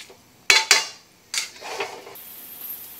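Metal utensil scraping and clinking against a pan while tuna pasta sauce is stirred: two sharp knocks close together, then a longer scraping stir, near and clear with no talk.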